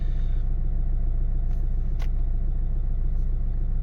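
Renault Dacia 1.5 dCi diesel engine idling steadily after starting, a close, even low rumble with a fine rhythmic diesel clatter and no talk.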